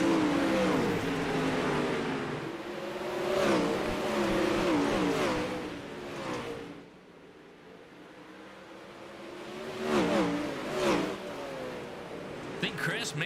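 Outlaw 360 sprint cars race at Weedsport in the iRacing sim game, engines droning and revving in waves from the pack, with a commentator talking over the engine noise throughout.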